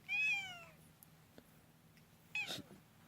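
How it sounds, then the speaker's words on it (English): A cat meows twice in the background, one drawn-out call at the start and a shorter one later, faint against a quiet room. "you could probably hear Sunny in the background being a cat"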